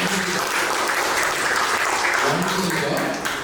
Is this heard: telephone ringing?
no